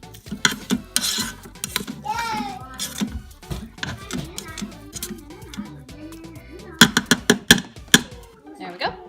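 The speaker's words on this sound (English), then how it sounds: "And then I'm going to give it a quick stir" Peppers, onions and garlic are stirred in oil inside a Farberware pressure cooker, with clattering spoon-on-pot scrapes and knocks over a light sizzle while voices chatter nearby.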